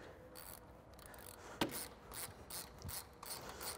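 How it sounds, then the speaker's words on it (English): A wrench ratcheting a nut tight on a Polaris PRO HD winch mounting bracket on a RZR XP Turbo S, a series of soft repeated ratchet clicks and rubs with one sharper metallic tick, close but quiet. "we're just going to go ahead and tighten up the nut here"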